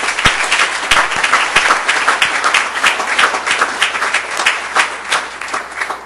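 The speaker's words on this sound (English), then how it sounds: "A round of applause for our recipients" Steady applause from a seated audience at a Rochester Board of Education business meeting, honoring scholarship recipients, dense and sustained throughout with sharp individual claps standing out near the microphone.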